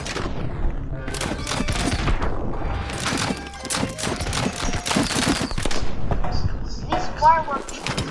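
In Totally Accurate Battle Simulator, firework Chu-ko-nu crossbows fire in a dense, chaotic barrage of crackling bursts and booming pops, loud and overlapping, with faint battle noise beneath.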